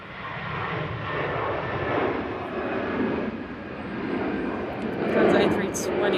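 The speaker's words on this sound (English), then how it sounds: "Emirates A380 heading back to Frankfurt." Emirates Airbus A380 jet at Manchester Airport, a loud steady engine roar that swells and holds throughout, with a person talking over it.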